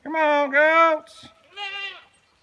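Goats bleat nearby in three clear calls, two long wavering cries back to back, then a short pause and one more bleat.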